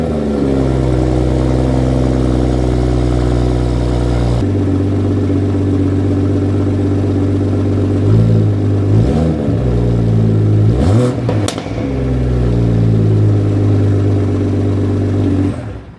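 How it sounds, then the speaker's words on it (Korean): A BMW M240i xDrive's engine and exhaust idle with a deep, steady burble, then a few sharp throttle blips rev up and fall back, loud and close before settling to idle again. "그러면 이 차량의 배기음도 한번 들어보시죠."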